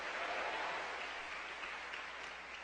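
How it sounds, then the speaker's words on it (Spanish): A church congregation applauds the Lord during a Spanish-language testimony service, a soft, distant, even patter of many hands sustained throughout without pauses. "dale el aplauso al Señor"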